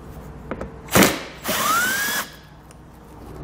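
A power driver backs out T25 Torx fasteners from a panel on a 2015 Volkswagen Golf, a short whirring burst followed by a longer ratcheting buzz with a rising whine, then quiet.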